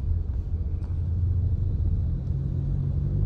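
Road traffic heard from inside a vehicle, a constant low engine and tire rumble with a faint passing swell, no voices.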